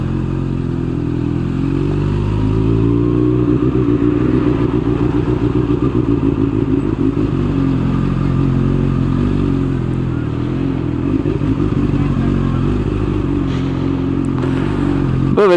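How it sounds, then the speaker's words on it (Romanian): A motorcycle rides through rush-hour city traffic in Timișoara, its close engine drone steady and loud throughout, with shifting pitch as it speeds up and slows, plus occasional clatter and thumps. "Bă, vedeți ce bine e să aveți motor."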